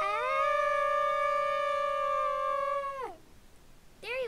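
A puppy gives one long, steady, high-pitched howl that sags and fades at the end, followed after a short pause by a brief rising cry.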